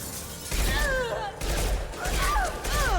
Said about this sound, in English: So, yes, back to the machine pistol.